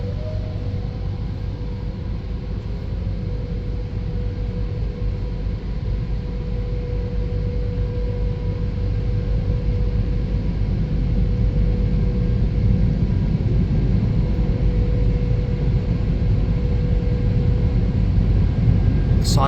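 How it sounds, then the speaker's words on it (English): WashTec SoftLine 2 touchless car wash tunnel in Gungahlin, ACT, with side and roof dryers blowing: a loud, steady roar of rushing air with a faint hum, holding constant close up throughout. "So we've got our side dryers right there, as you can see on the sides, and our roof dryer right here."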